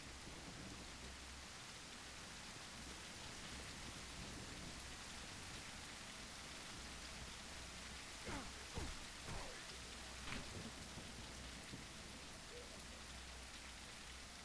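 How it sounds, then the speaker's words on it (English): Steady rain hissing in a post-apocalyptic Soviet survival game, a dense continuous wash of falling drops with a few faint low rumbles partway through, no voices. "oh yeah, it is raining"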